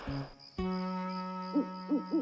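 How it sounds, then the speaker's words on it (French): An owl hoots three short times over a steady tonal drone, with faint night insects chirping in the background. "Ce n'est qu'un hibou qui s'installe dans les arbres la nuit"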